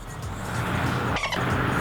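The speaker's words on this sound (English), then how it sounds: "Gotta wait for the cars." Cars passing on the road make a steady broadband traffic roar that swells slightly as a vehicle goes by close, with a faint brief squeal in the middle and no talking.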